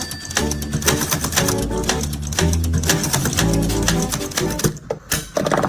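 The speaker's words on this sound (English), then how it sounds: "I've never seen a typewriter used in this manner, Scott." Rapid, sharp clacking of typewriter keys struck over and over to build up typewriter art, a dense close rattle of strikes with a few pauses and a carriage-like ding near the end.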